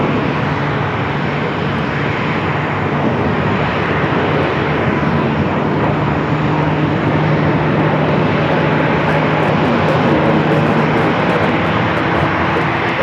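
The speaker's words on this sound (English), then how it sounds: "A321. Heading to LAX, rolling down, 7 left." An Airbus A321 rolls down runway 7 left at Phoenix Sky Harbor on its takeoff run, its engines a loud, steady broadband roar with a low hum that holds for the whole stretch without any talk.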